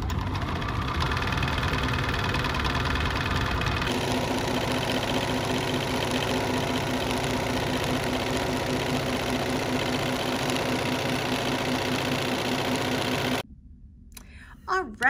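A BERNINA sewing machine running a quilting stitch with a walking foot hums steadily and loudly in a continuous mechanical drone for most of the clip, then cuts off abruptly near the end, leaving a brief quiet tail.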